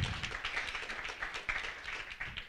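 An audience at a talk gives a brief round of applause for a volunteer, quick scattered claps rising and fading over a couple of seconds, moderately loud with no speech over them.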